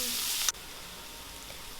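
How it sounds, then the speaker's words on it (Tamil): Chopped onions sauté in a pan, giving a steady close sizzle that drops to a softer hiss partway through, with no talking. "இப்போ பாருங்கள், வெங்காயம் நல்லா வதங்கி வந்திருக்கு"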